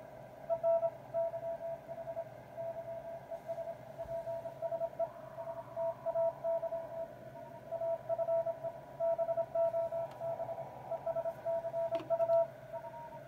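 Narrow-filtered receiver audio from a Yaesu FT-450D, a steady tone around a thin band with choppy, fluttering level, like a CW or carrier signal through a tight bandwidth filter, no talk.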